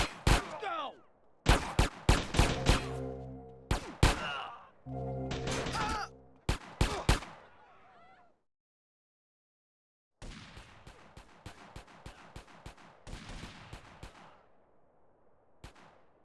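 Gunfire in GTA comes as loud, close bursts of rapid shots in several volleys, then a few seconds of silence, then a faster run of lighter shots that fades out, with no talking.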